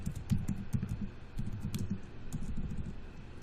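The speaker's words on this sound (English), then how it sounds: "So let's go ahead and type that." Steady typing on a computer keyboard, a continuous patter of soft key clicks in quick bursts with brief pauses, close and fairly quiet.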